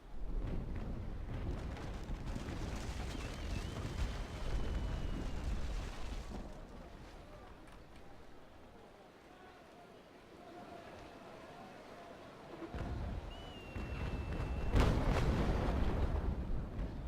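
Broadside cannon fire from sailing warships rumbles through a naval battle in Naval Action. Deep booms and bursts rise and fall over about seventeen seconds, loudest near the end. A voice speaks faintly underneath.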